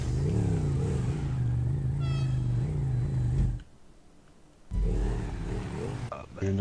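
A motorbike engine in GTA 5 revs steadily at close range for several seconds, drops out briefly, then comes back and keeps droning toward the end.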